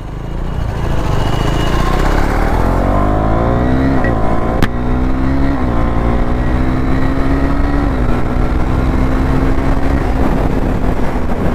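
A KTM Duke 390 motorcycle with a new spark plug revs loudly close by, its engine tone climbing and dropping through repeated throttle blips, with a sharp exhaust pop cracking out partway through over a steady roar.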